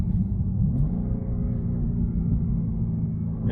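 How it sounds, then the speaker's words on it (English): A 2023 BMW M2 engine blips its revs to match a gear shift into third, a steady low rumble that stays loud and close throughout. "And that's rev matching."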